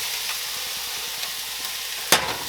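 Chicken with onions and mushrooms sizzles steadily in a pan as it is stirred, a constant frying hiss with faint scrapes and one sharp clack near the end, no voices.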